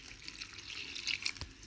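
Water splashes briefly into a bowl of flour, salt and baking soda, a soft, close trickle lasting under two seconds.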